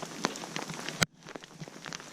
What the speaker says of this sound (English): Oh, it's hailing now.